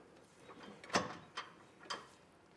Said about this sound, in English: you can tighten and then torque those two bolts to the specifications